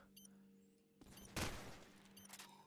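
Gunfire in a Call of Duty 4 match at a LAN tournament, a faint burst of rapid shots with one sharper bang near the middle, heard far back under quiet game ambience.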